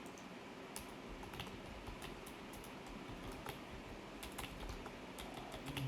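Close, quiet clicking of someone typing notes on a computer keyboard, in irregular bursts of keystrokes over a soft steady background hum.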